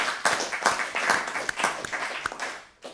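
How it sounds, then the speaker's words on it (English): Audience applause for a Buddhist teacher after a talk on compassion in a lecture hall, a steady patter of many hands clapping at moderate distance for about three seconds before trailing off. "Could we have another round of applause for Dr. Tashi Tsering?"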